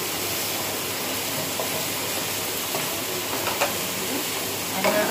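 Vegetables stir-frying in a hot pan for chicken fried rice, a steady loud sizzle with faint clinks of a utensil near the end.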